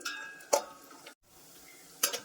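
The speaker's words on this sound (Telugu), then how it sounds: "జీడిపప్పు వేసుకొని సిమ్లో పెట్టుకుని ఫ్రై చేసుకోవాలి" Cashews fry in ghee over a low flame for ravva kesari, a soft sizzle broken by two sharp clinks of a spoon against the pan and a brief pause between.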